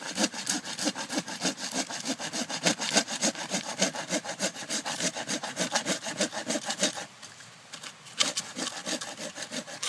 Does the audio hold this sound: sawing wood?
yes